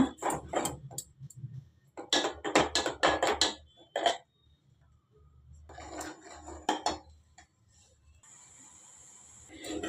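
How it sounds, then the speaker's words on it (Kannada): Cream is stirred over medium heat in an aluminium pot to make ghee, with bursts of close metallic scraping and clinking strokes separated by quiet gaps and a soft bubbling patch near the end. "ಮೀಡಿಯಮ್ ಊರಿಯೊಳಗೆ ಕೈ ಬಿಡದೆ ತಿರುಗಿಸ್ಕೊತಾ ಇರೋಣ"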